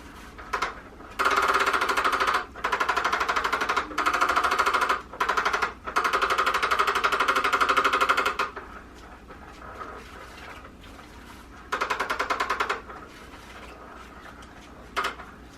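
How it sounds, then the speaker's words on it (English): A loud, rapid rattling buzz in repeated bursts of a second or two, stopping and starting as a cat bats an undercover mouse toy around under fabric, up close. "this is how Boo plays with his undercover mouse"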